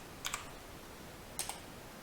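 A computer keyboard gives two quick pairs of faint, close clicks about a second apart, set against quiet background hiss.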